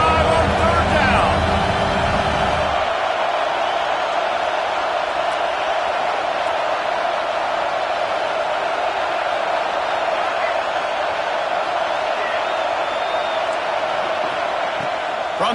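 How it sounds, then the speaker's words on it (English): Ohio State Buckeye stadium crowd on third down, a broad, steady roar of distant cheering filling the whole stretch, with an announcer's voice over the start. "The Buckeye crowd alive on third down."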